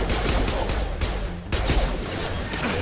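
Rapid gunfire in the video game Mass Effect 2, a dense run of sharp, loud shots and bursts in close succession with a brief break midway before firing resumes, heard alone.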